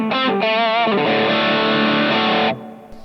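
Distorted electric guitar through a Tone Junkies AI impulse response with a mid push, a quick run of notes settling into a loud sustained chord that cuts off, played alone.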